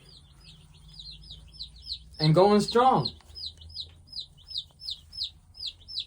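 Baby chicks from a hatchery shipping box peep in a steady, rapid series of high chirps, close and clear, with a brief spoken phrase cutting in partway through.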